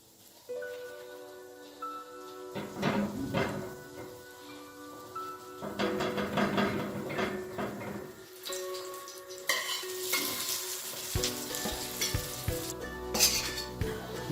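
Lachha paratha sizzles and crackles as it fries in a pan, growing louder toward the end, with bursts of scraping and handling in between.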